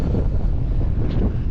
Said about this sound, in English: It is very windy, so I might have to shout for you.